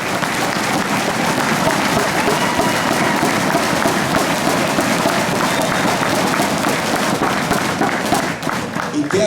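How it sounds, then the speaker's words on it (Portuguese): A political audience at a PSDB gathering at FECOMERCIO applauds Fernando Henrique Cardoso with loud, sustained clapping and cheering that fills the room evenly for about nine seconds, dipping briefly near the end. "que merece os aplausos"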